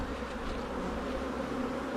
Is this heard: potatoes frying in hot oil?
no